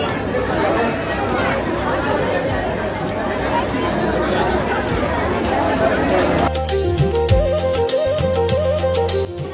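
Crowd of pilgrims at the Renuka Mata temple on Mahurgad, a thick continuous babble of many voices, then a shift to a nearer, clearer mix of voices and rattling sounds.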